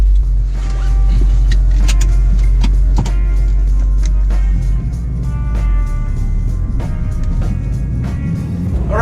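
A Subaru WRX STi pulls away for a drive with a loud, close engine rumble and low drone, under scattered clicks and rattles from inside the cabin.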